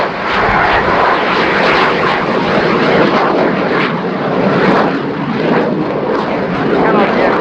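A fixed-wing aircraft with canard foresurfaces flies past at an air show, a loud, continuous broadband engine roar that swells and ebbs slightly throughout, with no break.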